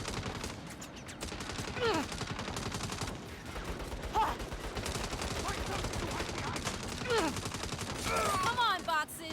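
Rapid gunfire in the video game Saints Row as boxes are shot. Dense, continuous bursts of automatic fire crackle steadily for several seconds, joined by impacts and other game effects.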